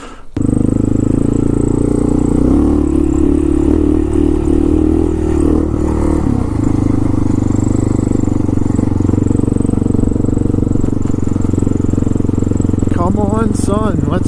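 A Honda XR650L motorcycle fires up and rides off, its loud, steady engine drone running close for the whole stretch, with a short rising rev toward the end and a voice speaking over it.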